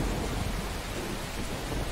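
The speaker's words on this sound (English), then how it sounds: "Don't like the sound of thunder or lightning." Rain and rolling thunder in a Roblox game, a dense unbroken roar of rainfall with a low rumble beneath, steady and fairly loud throughout, no voices.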